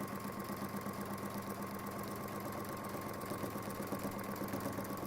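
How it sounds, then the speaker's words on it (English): A sewing machine stitches fabric in a steady, unbroken run, its motor humming and buzzing evenly at moderate loudness for the whole stretch, with no talking. "We're just going to keep sewing."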